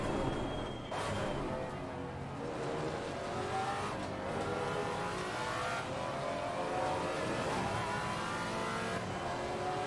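Maserati MC GT4 race car in Assetto Corsa Competizione, its engine droning steadily and loudly throughout with rising and falling revs as it accelerates and shifts through gears.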